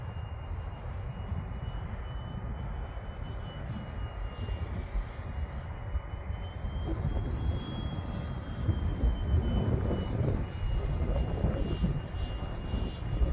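A Freewing MiG-15 model jet with a 64mm electric ducted fan flies outdoors on a breezy day, its steady whine and rushing airflow continuous and swelling louder as it passes closer.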